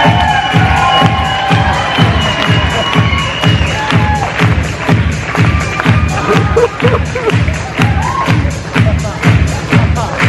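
A camp audience roars with dense applause and cheering for the reigning champion, loud and continuous, with whoops and shouts rising over the clapping throughout.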